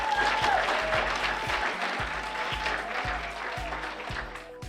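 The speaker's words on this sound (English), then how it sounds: "If you believe that, clap your hands." A crowd at a political gathering claps hands together in sustained applause, a dense wash of clapping with some crowd noise and a low rhythmic thump underneath.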